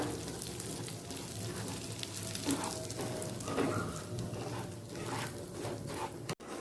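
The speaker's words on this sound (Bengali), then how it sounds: "কিশমিশটা দিয়ে কয়েক সেকেন্ড একটু মিশিয়ে নেব ঘিয়ের সাথে একই সাথে আমি ভেজে নেব সুজিটা" Semolina and raisins fry in ghee, a soft, steady crackling sizzle with faint stirring, quiet and continuous throughout.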